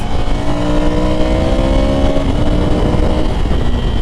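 A Ducati Scrambler 800 Café Racer motorcycle engine pulls hard and steadily, its exhaust note rising as it accelerates, loud and close throughout.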